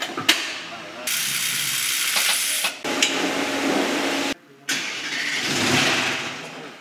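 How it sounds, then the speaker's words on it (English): The engine of a rebuilt Mercedes GT63 AMG cranks and catches, settling into a loud, steady run with brief pauses and mechanical rattling, close by. "This is the big moment. Go for it. Let's start the engine up."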